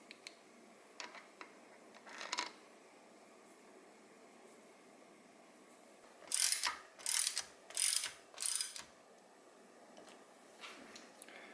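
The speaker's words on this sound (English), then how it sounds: "And that gets torqued to 17 foot-pounds." Ratchet torque wrench clicking in four quick bursts as it tightens a thread-locked bolt on a Kawasaki KX65 bottom end during a rebuild, fairly close and clear in a quiet workshop with a few faint ticks before.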